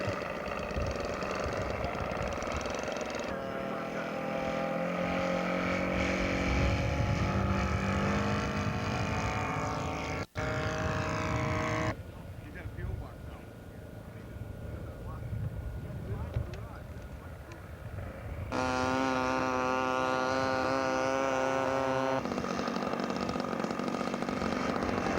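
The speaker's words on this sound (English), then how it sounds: "Mike Brewer from Astoria, Oregon, taxiing out for takeoff." A scale model aircraft engine taxiing out for takeoff at an outdoor scale aircraft show, a steady buzzing drone that shifts in pitch as the throttle changes, with an announcer talking over it.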